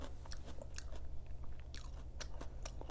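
Close crunchy bites and moist chewing on kimchi pancake, a run of sharp crisp crunches and softer mouth sounds over a low steady background hum, with no talking.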